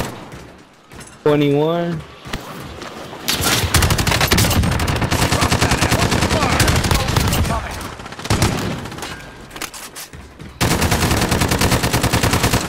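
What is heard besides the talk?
gunfire in video game Call of Duty: Modern Warfare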